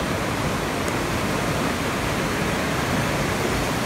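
Water rushes loudly and continuously outdoors in rain, a steady broadband roar like a stream or small waterfall close by, unchanging over a few seconds with no talking.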